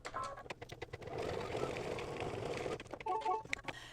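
An embroidery machine stitches a dog's nose in dark gray thread on a mug rug, a close rapid mechanical needle rattle with a brief steadier whirring run in the middle, no voices.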